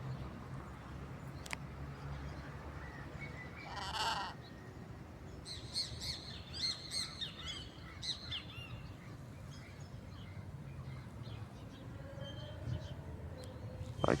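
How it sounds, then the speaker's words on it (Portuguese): Macaws, toucans and other birds in a city square in Mato Grosso do Sul call in scattered bursts, including a few harsh squawks and chatter, fairly faint over a low background murmur. "onde é comum ver esse tipo de arara, tucanos e outros pássaros mais que vêm nos brindar todos os dias com"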